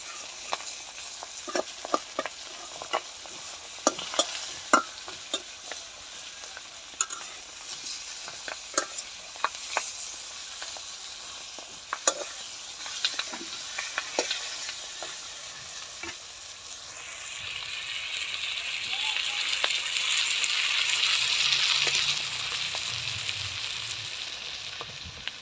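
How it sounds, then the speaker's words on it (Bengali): Fish fry in oil in a wok while being turned, a soft continuous sizzle broken by frequent sharp clicks and scrapes of the spatula, swelling into a louder hiss near the end. "মাছগুলো উল্টাই দিব, উল্টায় পাল্টায় ভালো করে ভেজে নিব।"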